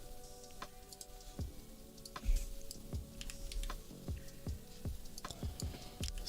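Fairly quiet typing on a computer keyboard, with irregular bursts of crisp key clicks and thuds over a faint background hum.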